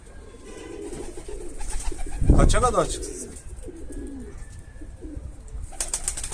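A pigeon coos in a soft rolling burst near the middle, with people talking nearby before and after it.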